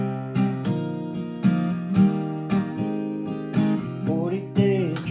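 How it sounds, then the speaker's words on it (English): An acoustic guitar strums the verse of the song in a steady rhythmic pattern, sounding close and moderately loud with distinct accented strokes. "So the strum verse is going to sound like this."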